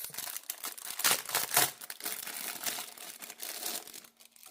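Plastic zipper envelopes crinkle and rustle as they are pulled out of a cash envelope wallet binder, close-up bursts of crackling handling noise with two sharper crunches near the start, no voices.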